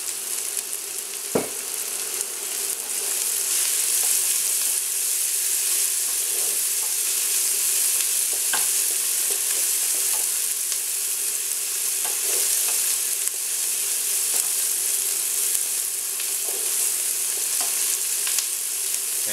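Onions sizzling steadily in a pan as they cook down toward brown, a continuous close frying hiss with a few sharp stirring clicks of a utensil against the pan, no voices.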